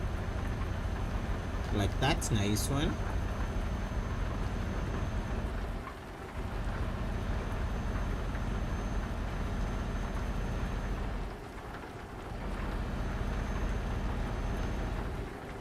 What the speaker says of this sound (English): Get some raindrops in here.